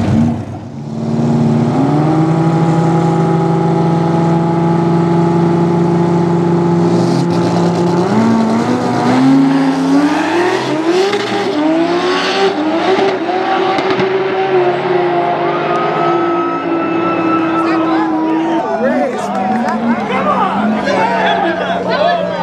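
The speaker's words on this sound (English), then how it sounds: "Both cars had a pretty clean run." Two drag racing cars make a side-by-side run at a Cash Day event in Tucson, loud engines droning at the line and then shifting up through the gears, with a crowd and voices chattering underneath.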